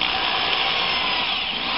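A drill fitted with a hole saw bores into a PVC box, making a brief, steady, harsh grinding whir up close with no talking.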